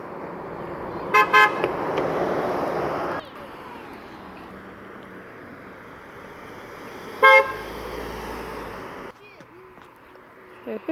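A passing car gives short horn toots: a quick double honk early on and another brief blast later, heard outdoors over road noise while a person talks nearby.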